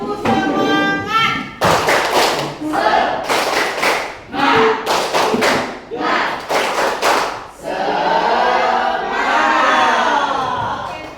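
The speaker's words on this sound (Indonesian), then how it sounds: "Tepuk semangat, silakan berdiri." Students stand and perform a rhythmic spirit clap in a classroom, loud bursts of synchronized clapping in patterned groups, separated by short gaps, with voices chanting and shouting along in between and at the end.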